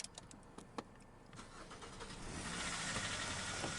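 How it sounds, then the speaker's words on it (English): A 2010 Kia Forte engine turning over after a few scattered clicks, then catching and settling into a steady running rumble that grows slightly louder toward the end. "After successfully activating the engine with a USB cord, Swervo's on the move"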